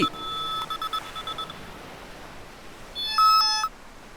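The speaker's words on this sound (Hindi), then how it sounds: "सिद्धू, दुबई से पापा का फोन है" A phone rings in short electronic tone bursts, an early cluster of beeps followed after a pause by a louder, brighter ring toward the end, with no talking.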